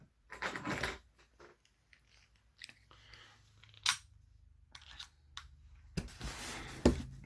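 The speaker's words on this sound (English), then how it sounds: "Let's see if I can cut this tape along the seam of the styrofoam." A knife slices packing tape along the seam of a styrofoam box holding a 1:18 scale ACME Good Times Machine van model, giving scattered close scraping, crunching and squeaking cuts with short pauses between them.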